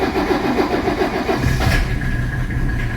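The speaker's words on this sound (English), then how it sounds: "the engine has such good compression that it went ahead and fired up with no glow plugs" A 1984 Mercedes 300SD diesel engine cranks and fires up cold without glow plugs, a loud rhythmic starter churn that catches and settles into a rough, steady idle close by.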